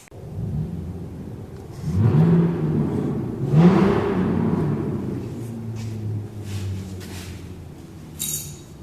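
A neighbor revs a V8 engine nearby: a steady, low rumble swells through two strong rising revs early on, then settles into a lower, ongoing idle-like drone, with no talking.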